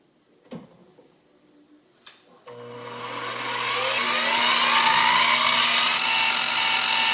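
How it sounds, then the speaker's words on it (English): A drill press starts after a couple of clunks and clicks, its motor hum rising into a steady loud whine with a broadband cutting hiss as the bit bores a hole into a part clamped in a vise. "clamp it into the vise, bring the chuck off of it, and now drill your hole"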